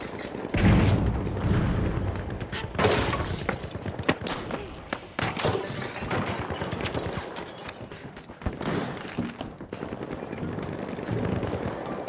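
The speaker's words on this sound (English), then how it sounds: "Sending a frag." A frag grenade explodes in a shooter video game amid heavy action, loud booming thuds and sharp bursts of gunfire scattered across the stretch, with faint voices now and then.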